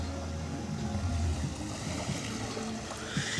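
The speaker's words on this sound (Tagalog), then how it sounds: "Kung naririnig niyo yung ampas ng alon" Waves wash onto a seashore in a continuous close roar of surf, with churning water and low rumbling swells rising and falling.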